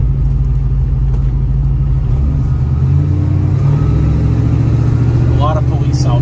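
A black 1970 Chevrolet Nova with a Turbo 350 automatic transmission cruises along, its engine giving a loud, steady low rumble close by, the pitch stepping as it shifts; a voice talks over it.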